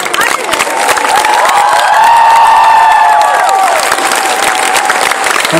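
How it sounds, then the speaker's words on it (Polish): A crowd at an outdoor town-square celebration in Rzeszów applauds and cheers steadily for several seconds, dense clapping with raised voices and shouts blending into a loud, sustained roar. "Brawa dla działaczy, którzy poświęcają czas, jeżdżą na mecze, przygotowują wszelkie imprezy."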